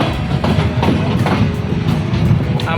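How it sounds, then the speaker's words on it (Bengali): A passenger train slows on its approach to Darshana railway station, with a close, steady rumble and rhythmic clicking of wheels over rail joints and no talk. "ট্রেনের গতি অনেকটাই কমে গেছে"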